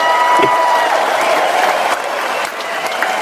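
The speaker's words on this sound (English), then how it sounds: "Give her some clap." A studio audience on a morning talk show gives a short burst of applause. The clapping is close and fairly loud, mixed with crowd noise, and fades slightly toward the end.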